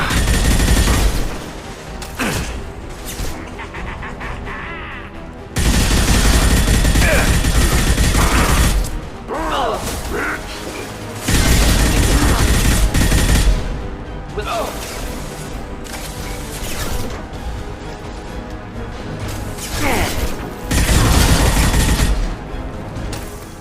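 Gunfire in the Mass Effect 2 video game comes in repeated loud bursts of rapid automatic fire, broken by brief lulls, with combat shouts and voices in between.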